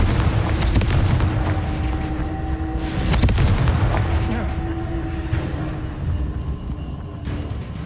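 Fiery spell blasts boom and crackle during Hogwarts Legacy combat, a loud, rumbling burst with a sharp crack near the middle and continuing heavy impacts, with voices talking over the effects.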